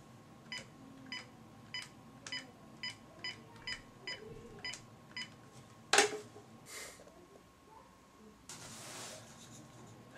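A telephone being dialed: a steady series of about nine evenly spaced short keypad tones, followed by a sharp click and a brief burst of noise, with no talking.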